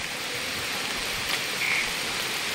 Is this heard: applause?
no